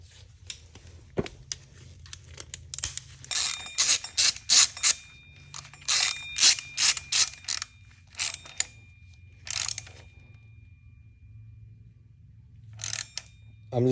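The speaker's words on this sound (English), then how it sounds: "I'm just gonna hand tighten these." Hand tightening of water pump bolts on a Honda K20/K24 engine: irregular bursts of sharp metallic clicks and ratcheting, close up, coming in clustered runs with short pauses over a low steady hum.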